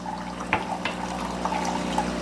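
A coffee machine runs lukewarm water through its system on a first test after unboxing, giving a steady liquid pour and trickle with a few small clicks and knocks, fairly close and moderately loud.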